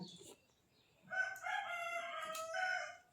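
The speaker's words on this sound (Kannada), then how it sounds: "ಹುಂಜಟ್ ಕೂಗ್ತಾವ ನೋಡ್ರಿ" A rooster crows once in a long, drawn-out cock-a-doodle-doo that rises and holds its tone, fairly distant and faint in an otherwise quiet setting, with a brief softer cluck before it.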